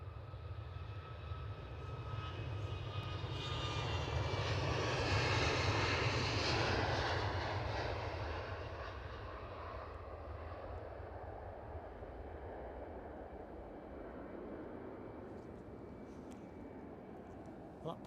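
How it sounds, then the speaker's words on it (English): A positioning-flight airplane taxiing at Edinburgh airport gives a steady, distant jet engine roar that swells for several seconds and then settles into a lower sustained drone, with faint talk in the background. "Oop, plane moving."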